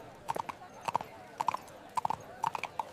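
Donkey hooves clip-clop in a cartoon, a steady rhythmic series of hollow knocks in uneven pairs and triplets. The hoofbeats run close and clear over a quiet background.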